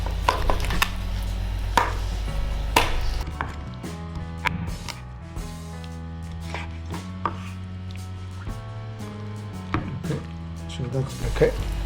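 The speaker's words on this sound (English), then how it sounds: "You can cut from here, the joint here, into small pieces." A knife chops a whole chicken into small pieces on a board, giving sharp, irregular thwacks and cuts over a steady low hum, with some heavier blows spaced unevenly.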